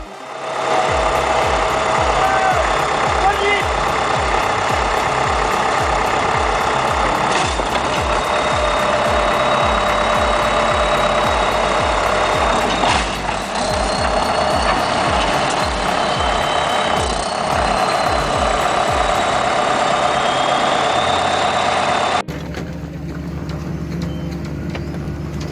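A bulldozer is driven off a trailer, its diesel engine giving a loud, steady throb with rhythmic clanking and squeals from the tracks for about twenty seconds before the noise suddenly drops to a quieter rumble.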